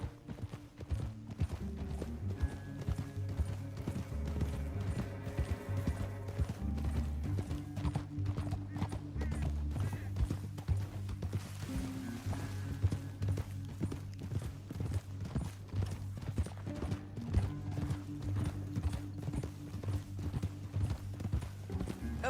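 Horses gallop in Red Dead Redemption 2, a steady rhythmic clatter of hooves over a low rumble, with an occasional whinny, continuous and moderately distant with no talking.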